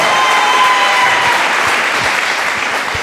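A live concert audience claps for a band member being introduced, a dense, loud wash of applause that holds steady for the whole stretch and tapers only slightly at the end.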